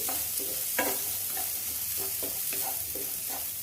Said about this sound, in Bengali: একটুখানি নেড়ে নেব চালটা